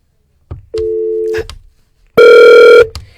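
A telephone rings in during a Spanish-language medical podcast: a short steady electronic tone, a pause, then a second louder, harmonically rich ring, close and clear with a soft click or voice fragment around it.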